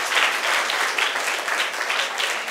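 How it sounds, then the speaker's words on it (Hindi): Loud, steady applause from an audience at a Buddhist vihara gathering in Gondiya, continuous clapping with no talk over it. "जोरदार तालियां।"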